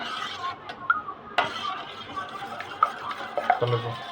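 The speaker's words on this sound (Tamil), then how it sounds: "இதில் வந்து 6 முட்டை போட்டிருக்கு ஃப்ரெண்ட்ஸ். ஓகேவா? நல்லா கலக்கிக்கலாம்" Six eggs being beaten with a utensil in a bowl for Appampattu egg candy, with irregular clinks and scraping strokes against the bowl, close and moderately loud.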